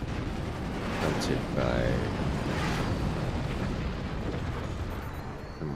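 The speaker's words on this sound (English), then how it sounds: "Julian once again takes 2 mortars to the face" Mortar rounds burst in a video game as a sustained, booming low rumble that swells and lingers for several seconds, with faint crackling debris and a caster's voice partly audible over it.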